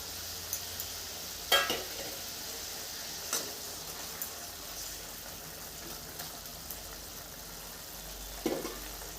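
Fish simmering in a pot of boiling mustard sauce with green chillies, a faint steady bubbling and sizzle broken by a few soft clinks of stirring.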